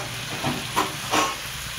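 Goat brain bheja fry gravy simmers in a pan with a soft, steady hiss, swelling gently a few times across a short stretch, with no talking.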